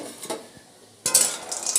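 Soya chunks drop into a pan with potatoes and salt to fry, a brief clatter and hiss followed by light clinks and scraping, close and fairly quiet with no talking.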